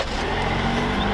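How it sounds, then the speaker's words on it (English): A 2022 Jeep Wrangler Willys with a small turbocharged four-cylinder engine, started remotely, runs with a steady, smooth idle rumble close by, with no talking over it. "The little turbo engine is gonna roar to life."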